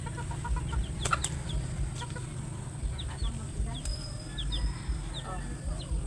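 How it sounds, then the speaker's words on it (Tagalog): Several chickens cluck and chirp intermittently close by over a low rumbling background, with faint voices mixed in. "nasanay na yung manok na kasalo sila sa pagkain."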